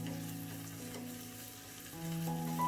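Small shallots and curry leaves frying in hot oil for a Kerala-style fish curry, giving a steady close sizzle that grows slightly louder toward the end, with faint tonal background sound.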